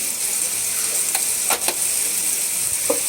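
Shrimp frying in a pan with onion, garlic and turmeric powder, a loud, steady close sizzle with a few brief utensil scrapes and taps while stirring, no talking.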